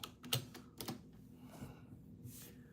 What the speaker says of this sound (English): I can't type. Typing like Neanderthal.